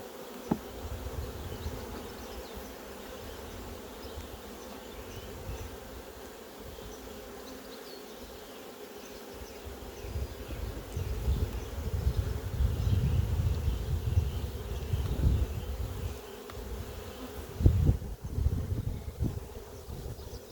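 Honey bees buzz around an open hive during an inspection, a steady low droning hum that swells louder midway, with faint wind noise and a few soft knocks.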